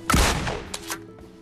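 Shotgun fire in a mobile battle-royale shooter game: a loud close blast with a sharp crack and booming tail, followed by fainter trailing reports, no talk.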